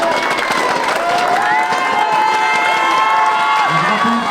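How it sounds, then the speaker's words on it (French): A crowd cheers, shouts and applauds as two amateur sports teams walk out, a loud continuous roar of voices and whoops with clapping mixed in, steady throughout. "on les applaudit."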